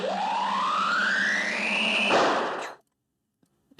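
A buzzing electric tone rises steadily as a long charge, then bursts into a crackling lightning-like release that fades quickly into silence.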